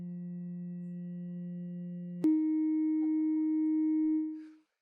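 A steady electronic sine tone at 176 pulses per second holds alone, then jumps abruptly to a higher steady pitch that sustains before fading out.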